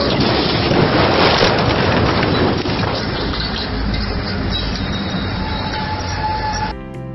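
A train rumbles past close by with loud, continuous roaring wheel noise and faint metallic squeals, fading slightly before an abrupt end.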